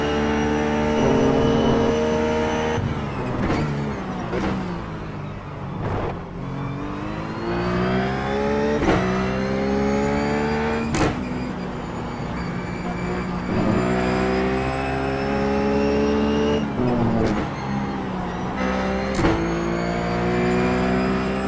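Ruf GT3 race car in iRacing at Laguna Seca, heard from the cockpit as the engine screams up through the revs, with sharp upshift cuts and downshift blips repeating across the lap at steady loudness.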